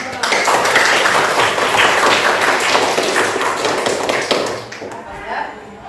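A class of students claps and taps in a burst of applause that fades toward the end, with some voices mixed in.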